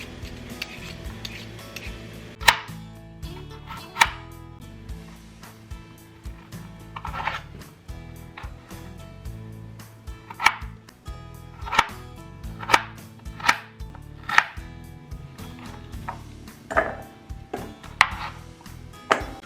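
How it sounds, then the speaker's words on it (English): Potatoes are chopped with a knife on a board, a series of crisp, close knocks with uneven gaps, some louder, set over a low muffled background and no speech. "We are also going to peel and chop our potatoes."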